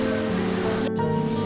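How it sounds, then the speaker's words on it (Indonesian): Steady broadband wash of surf breaking on a sandy beach, continuous and fairly close, with no voices and a brief dip near the middle. "Di pantai pasir berdesir gelombang."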